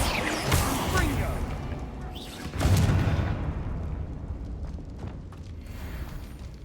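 Confringo explosive spell blasts in Hogwarts Legacy: two booming bursts with whooshing crackle, one early and one near three seconds, fading into a low rumbling tail.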